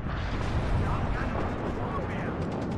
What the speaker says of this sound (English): Enemy artillery is coming in to try and deny my Pioneers pushing forwards here